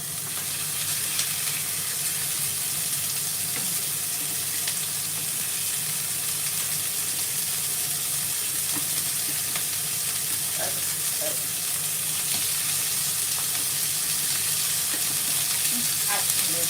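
Meat sizzles steadily in a hot pan, a close, continuous crackling hiss with occasional sharper pops and faint stirring.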